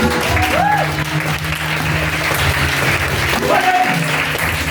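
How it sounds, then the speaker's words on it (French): A church congregation breaks into loud, sustained applause that fills the room from start to finish, with a voice briefly rising over the clapping. "Est-ce qu'on peut acclamer pour la parole?"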